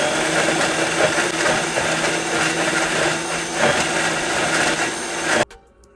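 A Vitamix blender running at full power, blending organic ingredients for green seasoning, a loud steady whirring roar that cuts off abruptly near the end.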